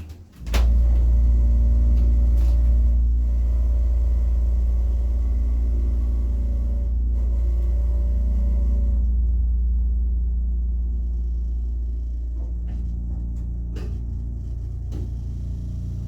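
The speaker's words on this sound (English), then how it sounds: "it's a piston pump." A 1950s Rotary elevator's original piston pump motor runs with a loud, steady low hum and rumble that lasts throughout. It fades a little toward the end, with a few faint clicks and knocks and no voices.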